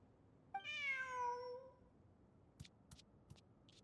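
A cartoon cat in the Genshin Impact video game lets out a single clear, drawn-out meow, followed by a few faint, sparse clicks and taps in a quiet scene.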